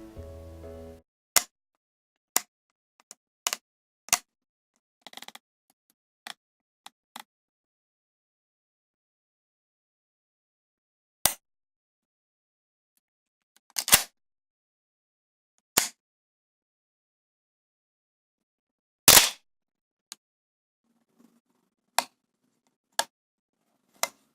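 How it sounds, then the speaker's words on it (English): Sharp mechanical clicks from a Canon AE-1 film camera's aperture ring and shutter, spaced irregularly with long silent gaps, close and crisp. "The aperture clicks, the shutter dial, the shutter itself, they all sound so satisfying."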